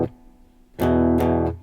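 An electric guitar plays a short measure of a rock song: a faint decaying note, then two sharp strummed power chords ringing briefly, alone and close.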